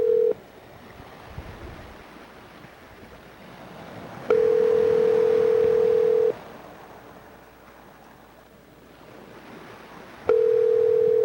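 Three bursts of a steady electronic ringback tone over a faint background hiss, each lasting about two seconds with long gaps between them.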